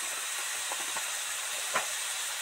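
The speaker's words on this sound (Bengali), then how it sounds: "এটা অল্প তেলে অল্প সবজির সাথে ভেজে নিচ্ছি, তাহলে আর কাঁচা গন্ধটা থাকবে না" Banana flower for mochar ghonto fries with a little oil and vegetables, producing a constant, fairly quiet broadband sizzle with a couple of faint soft knocks from stirring.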